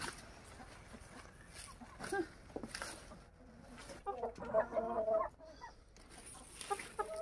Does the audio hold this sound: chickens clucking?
yes